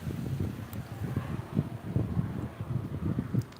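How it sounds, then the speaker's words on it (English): Steady wind buffets the microphone with low, rumbling gusts that rise and fall throughout. "It's windy"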